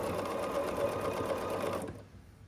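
Sewing machine chain piecing small fabric Dresden plate blades for a quilted Christmas ornament, its motor whirring steadily up close before stopping abruptly near the end.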